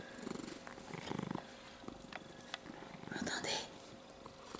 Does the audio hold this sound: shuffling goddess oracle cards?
no